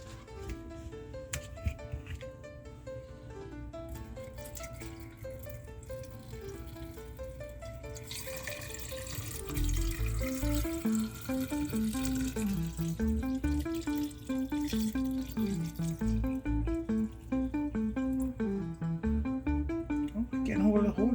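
Bottled water pours steadily onto okra, a broad rushing wash that runs from about the middle of the clip to the end, partly under melodic background music.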